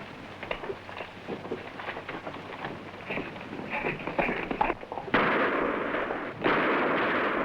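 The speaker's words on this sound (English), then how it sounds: "Who fired that shot?" Gunshot in an old western drama scene, heard as a loud, sharp broadband blast followed by a second burst, over a busy background of action noise.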